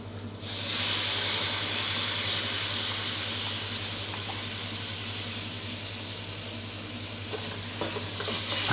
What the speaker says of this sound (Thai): ก็ให้เราทยอยเติมหัวกะทิลงไปเล็กน้อยครับ